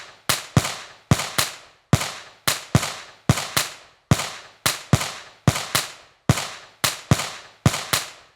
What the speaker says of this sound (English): it almost sounded like gunshots, right? Like a beat made out of like gunshots